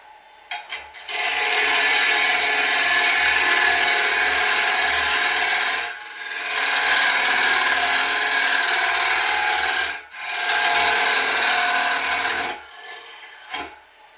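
A wood lathe spinning at 747 rpm while a tool cuts a wooden tenon, making a loud, continuous rasping hiss in long passes broken by short pauses, with no talking.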